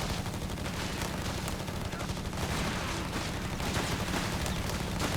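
An MG-42 machine gun team firing during a Company of Heroes 3 battle, steady rapid gunfire blended into a dense, continuous wash of combat noise with no clear pauses.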